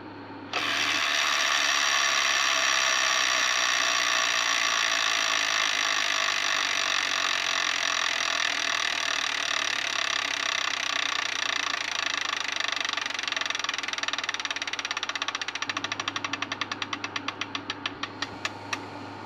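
A Wheel of Fortune Deluxe electronic tabletop game wheel spins with a loud, continuous rapid ratcheting click that runs steadily for many seconds, then slows into separate ticks as the wheel comes to rest.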